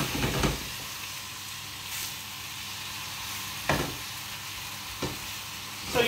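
Pork roulades frying in butter in a pan, a steady close sizzle with a few short louder bursts of spatter or stirring.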